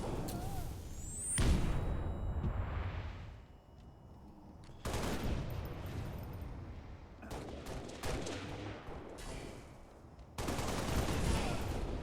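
Bursts of battle rifle fire in the Halo video game, several clusters of rapid shots separated by short pauses, loud and close, with other game effects in between and no talking.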